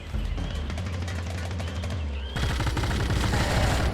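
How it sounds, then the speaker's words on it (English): Rapid weapons fire in the video game Brute Force, a steady rattling barrage of automatic shots that swells into a denser, louder volley partway through, with a faint voice mixed in. "I've got weapons fire"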